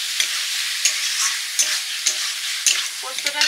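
Poppy seed paste stirred in a pan, close up, with repeated scraping strokes of a spatula over a soft continuous sizzle, about eight distinct scrapes at an irregular rhythm.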